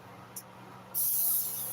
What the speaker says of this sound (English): I'm just going to spray it once with the oil to make real sure it's not